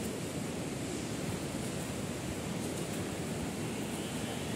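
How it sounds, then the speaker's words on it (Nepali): Rain falls outdoors at a crowded football venue: a steady, dense, even hiss fills the whole stretch without breaks, and no voices are heard. "यहाँ वेटिङ गेम खेल्दा त पानी पर्नु थाल्यो"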